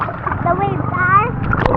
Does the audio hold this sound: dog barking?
no